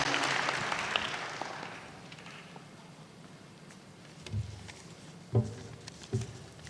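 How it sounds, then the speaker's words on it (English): Applause from the audience at a tech skills graduation ceremony, a broad wash of clapping at the start that thins and fades within about two seconds, leaving quiet room tone with a few soft thumps. "A round of applause for all the graduates today"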